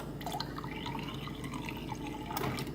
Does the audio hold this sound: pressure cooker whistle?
no